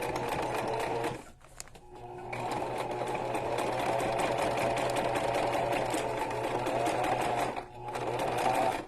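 Sewing machine stitching fabric with a bulky ribbon: a close, steady mechanical whir and rapid needle clatter that stops briefly twice before running on.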